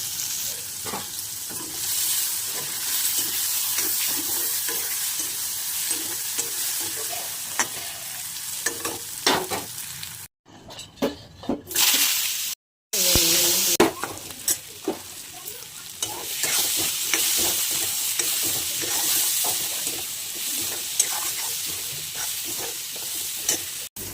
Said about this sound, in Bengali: পনিরটা ভাজা বসে দিয়েছি পনিরটা ভেজে নেবো আগে